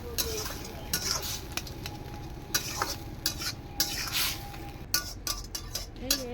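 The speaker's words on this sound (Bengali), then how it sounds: "এবার প্রায় হয়ে যাচ্ছে, আর কিছু ভাজা ভাজা হবে।" Vegetables sizzle steadily in a pan while a utensil scrapes and stirs them in repeated strokes, with occasional clinks against the metal, over a wood- or clay-fired stove.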